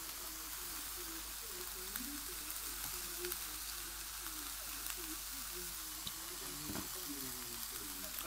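Soy sauce and a stir-fry mix of butternut squash and pak choi sizzle faintly and evenly in a frying pan, with a soft wavering hum in the background.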